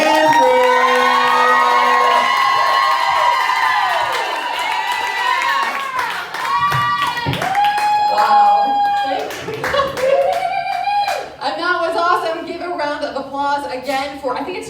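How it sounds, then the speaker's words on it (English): A large comedy club crowd at a stand-up set claps and cheers loudly and continuously, with whoops and shouts rising over steady applause, while music and voices carry through the din. "Big round of applause."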